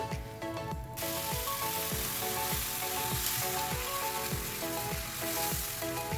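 Oats dosa batter fries in ghee on a hot pan, giving a steady close sizzle with crackling spatter. A brief quieter start gives way to continuous frying, and faint repeated low tapping runs underneath with no talking.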